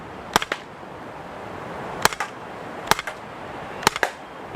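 Shots from a Gamo PT-85 CO2 pistol fired standing at a target, four sharp cracks spaced about a second apart, each followed quickly by a fainter echoing snap, loud and close with no talking.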